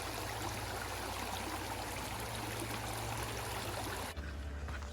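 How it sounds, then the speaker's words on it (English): A creek runs steadily at a trail crossing on the Appalachian Trail near High Point State Park, with continuous close rushing and trickling water and a low rumble underneath. "Another stream running nicely today, and another creek crossing."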